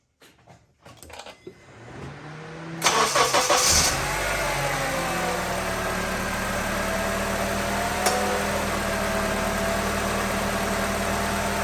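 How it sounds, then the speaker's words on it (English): A 2005 Honda CR-V engine cranks and catches, revs briefly, then settles into a steady, close idle that runs on alone. "I gotta start the car."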